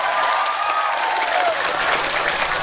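A crowd applauds, a dense burst of clapping that holds steady for a few seconds.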